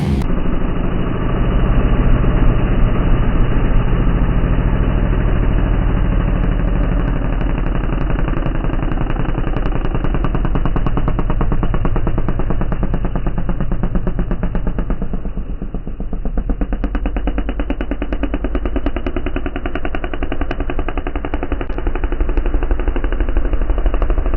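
Motocross dirt bike engines revving together at a race start on a practice day track, a loud continuous buzzing roar that stays heavy and dense throughout, with no talk.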